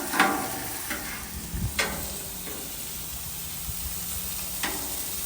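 Pork searing on a Blackstone flat-top griddle gives a steady, close sizzle, with a few sharp spatula scrapes and taps breaking through the hiss.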